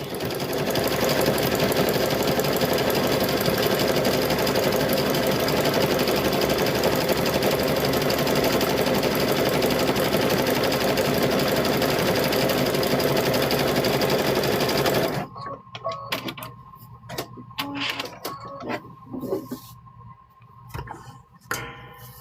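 A sewing machine stitches a quilted handbag in one loud, steady run for about fifteen seconds, then stops. Scattered handling sounds and light clicks follow.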